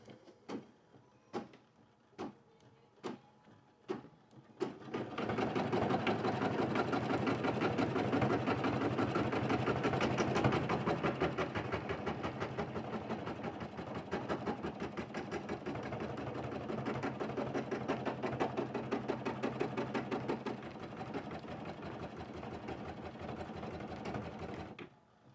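Several sharp separate clicks and taps come first, then a sewing machine runs continuously for about twenty seconds, a close, fast, even mechanical rattle stitching fabric for a pen holder, with no talking.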